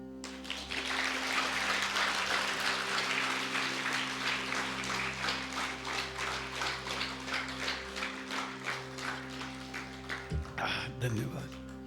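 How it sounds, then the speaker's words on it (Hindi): An audience at a spiritual discourse claps in sustained, rhythmic applause for several seconds, then it fades as a voice begins speaking near the end. "बजाओ ताली।"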